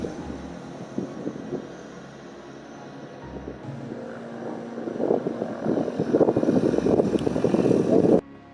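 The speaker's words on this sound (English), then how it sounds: "Watch as a small Cessna prepares to carry a group of tourists skyward" A small Cessna propeller plane idles and builds power on a simple gravel runway in Meru National Park, Kenya, its steady engine drone swelling louder through the second half amid some wind noise before cutting off abruptly.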